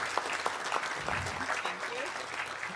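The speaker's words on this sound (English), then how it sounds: "Let's give her a round of applause." An audience at a seed company customer day gives a round of applause, dense, even clapping that fills the whole stretch, with a voice briefly audible beneath it.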